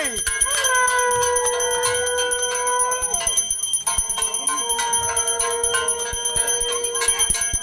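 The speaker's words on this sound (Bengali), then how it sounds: "ঘন্টা বাজাও, ঘন্টা বাজাও, বাউল মশাই ভালো করে পুজো দাও" A hand bell rings continuously during a Saraswati puja in Kolkata, loud and close with a bright ringing tone, while voices talk faintly in the background.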